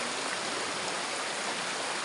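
Mountain stream water flowing down through vegetation, a steady dense rushing hiss close by, continuous and even with no pauses.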